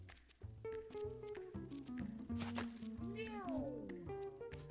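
Cartoonish cat meows from the video game Mewgenics, several gliding cries over game music while a person talks in French.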